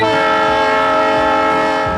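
Train in Oregon sounding its horn, a loud sustained multi-tone blast held steady throughout, with faint rumble of the rolling cars beneath.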